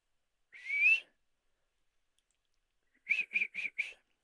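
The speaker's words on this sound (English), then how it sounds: "Can't whistle properly today." A person whistles close by: one sliding note first, then after a pause four short, quick, evenly spaced chirps. Each is clear and loud against silence, with no talking.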